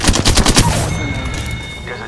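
Loud automatic gunfire during an Apex Legends battle royale match, a quick close burst of about half a dozen rounds that stops abruptly and leaves a ringing, fading tail.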